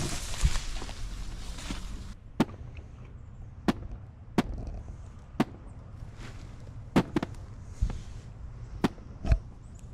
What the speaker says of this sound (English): I started hearing some loud banging in the distance, almost sounding like explosions.